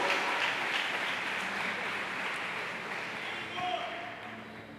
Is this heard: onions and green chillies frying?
no